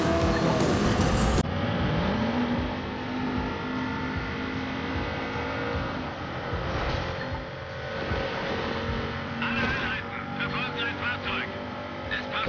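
A car engine in Watch Dogs 2 drones and revs under continuous talking, with whooshing surges of turbo boost and some electronic effects.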